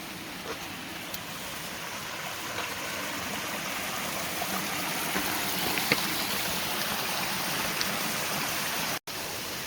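A steady, broadband rush of falling water from a waterfall on the Appalachian Trail, continuous and fairly close, with no voices.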